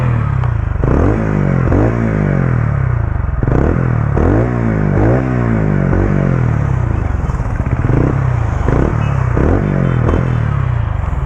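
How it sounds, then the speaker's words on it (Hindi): A TVS Ronin 225cc motorcycle idles and revs, its deep single-cylinder exhaust thumping loudly up close, with repeated throttle blips rising and falling in pitch over steady low rumble. "इसका एग्जॉस्ट नोट सुन लेते हैं"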